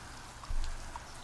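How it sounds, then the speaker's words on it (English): Steady soft rain hiss with scattered droplet ticks runs as quiet late-night ambience in an office setting, with a brief low thump partway through and no talking. "Let me turn the rain down"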